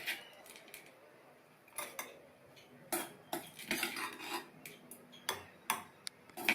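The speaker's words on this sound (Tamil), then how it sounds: "எல்லாத்தையும் மிக்ஸி ஜாரில் சேர்த்துடலாம்." Sautéed chutney ingredients are tipped into a mixer jar for an idli and dosa chutney, giving a string of faint, close clinks, taps and scrapes of a metal spoon against steel.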